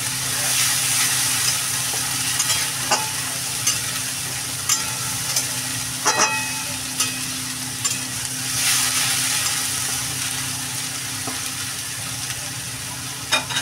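Two small grated onions frying in hot oil in a pan for a tomato-onion prawn curry, a steady close sizzle with occasional stirring clinks and scrapes throughout, no voices.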